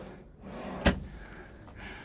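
A drawer under the bed in a Mobilvetta Design Yacht Tekno Line 90 motorhome opening or closing with a single short thud against a quiet room background.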